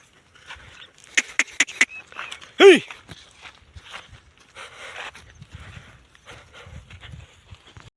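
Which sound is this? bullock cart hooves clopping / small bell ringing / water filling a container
bullock cart hooves clopping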